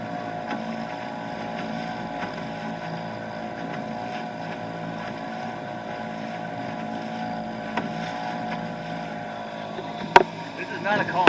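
Outboard motor pushing a canoe across choppy Lake Erie at about eight throttle, a steady close drone with wind buffeting the microphone and a few sharp knocks near the end.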